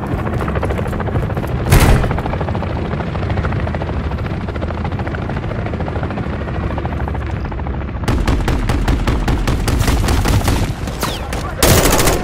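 A helicopter in Call of Duty: Modern Warfare 3 thrums with a loud, continuous rotor chop throughout, joined by rapid machine-gun bursts and booms, with voices heard over the combat.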